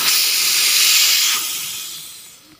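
Air rushing out of an open 70cc motorcycle tyre valve, a loud close hiss that holds steady, then weakens and trails off as pressure drops.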